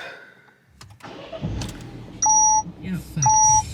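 A car with a deliberately planted engine fault cranks and starts nearby, followed by two loud, sharp dashboard warning chimes.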